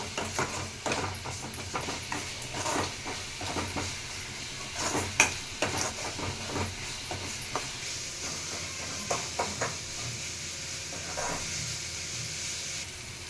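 Tomatoes cook down in a pan for a fish tamarind curry, giving a soft, steady sizzle and hiss broken by repeated scraping stirs and light clinks, fairly close and with no talking.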